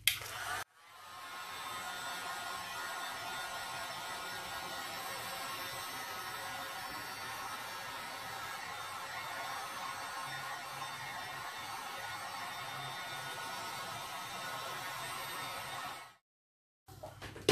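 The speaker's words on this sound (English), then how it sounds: "I'm gonna use my heat gun," A heat gun on low speed blows over epoxy resin art in a steady, fairly quiet hiss that runs without a break for about fifteen seconds, then cuts off abruptly.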